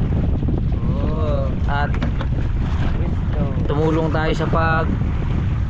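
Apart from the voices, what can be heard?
strong wind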